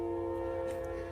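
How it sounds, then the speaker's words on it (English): A train passes nearby with a steady, sustained tonal drone like a horn or whistle, holding loud and even throughout the short stretch with no talk over it. "The train."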